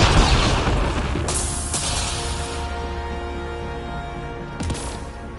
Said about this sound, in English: He set up explosions on lightning rods